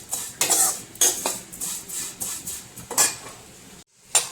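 Vermicelli and gram flour roasting in a pan while a metal spoon stirs them, giving repeated close scraping clinks against the pan in an uneven rhythm, with a brief pause near the end.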